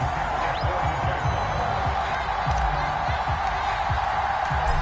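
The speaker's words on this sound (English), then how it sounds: "this crowd is ready to go" Stadium crowd noise from an EA Sports NFL video game ahead of a Week 11 matchup with the Jacksonville Jaguars, a steady roaring wash of cheering with scattered low thumps throughout.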